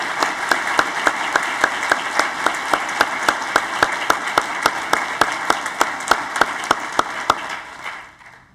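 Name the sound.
audience round of applause for Aaron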